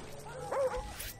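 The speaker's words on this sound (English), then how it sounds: "Fucking dog." A dog in the Call of Duty Black Ops multiplayer jungle map gives a brief yelping bark amid ongoing gunfire and game noise.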